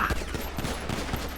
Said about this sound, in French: Oh, il a des tirs.